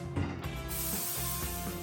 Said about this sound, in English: Now we're going to spray them with olive oil cooking spray.